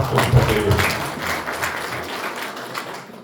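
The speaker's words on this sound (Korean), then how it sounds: "다시 한번 박수 좀 부탁드리겠습니다." Audience applause at a Korean seafarers' union policy forum, a dense, fairly loud wash of clapping that holds steady for a few seconds and then thins slightly toward the end.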